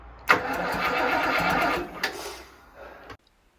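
The starter motor of a Marcos Mantula car cranks with a sharp whirring burst lasting under three seconds, then cuts off abruptly into silence, close and moderately loud.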